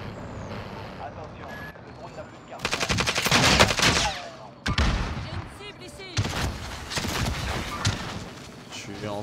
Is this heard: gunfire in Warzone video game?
yes